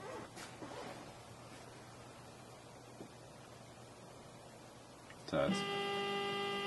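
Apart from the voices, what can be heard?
CT3 food texture analyzer booting up and auto-adjusting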